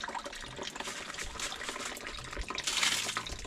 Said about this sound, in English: A bucket shower.